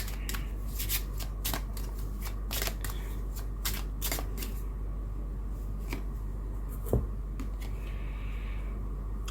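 Tarot cards being shuffled by hand, a run of quick crisp riffling bursts and soft slaps at close range over a steady low hum, with no talking.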